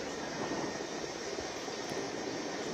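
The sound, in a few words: helicopter landing at Oval ground, Mysuru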